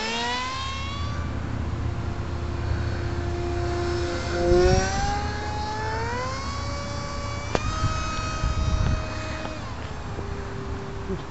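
Radio-controlled Eurofighter model jet with afterburner lights flying overhead, a sustained engine whine that rises and shifts in pitch as it passes, moderately loud over steady outdoor background noise.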